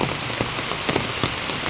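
Torrential storm rain hammers continuously outside a tree-surrounded house during a typhoon, a thick close wash of drops with occasional louder splashes and no speech.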